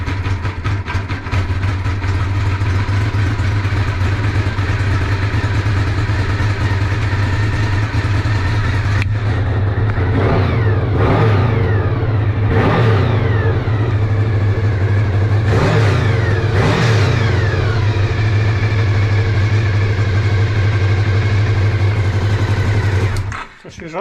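Engine idling steadily after a long period of not running, a close continuous low rumble with a few brief revs partway through, ending abruptly.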